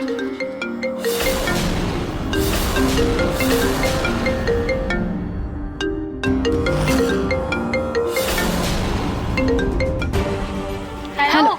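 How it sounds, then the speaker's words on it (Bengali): A mobile phone plays a melodic ringtone loudly and continuously in a hospital-drama scene, a bright repeating tune of bell-like notes that runs unbroken throughout. "ডাক্তারবাবুর ফোন বাজছে"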